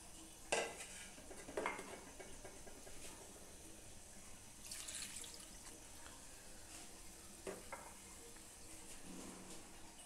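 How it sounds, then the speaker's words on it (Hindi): Water poured into a pot of raw chicken pieces in a home kitchen, with clinks of utensils against the pot and scattered sloshing and stirring sounds, fairly quiet and close. "इसमें मैं डालूंगी 2 गिलास पानी,"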